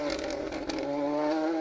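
A Ford Fiesta rally car on a special stage roars past nearby, its engine note holding a strong steady pitch with a slight downward shift as it goes by, loud and alone with no talk.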